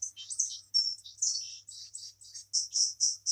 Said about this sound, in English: Hey, the baby woodpeckers are calling their mother.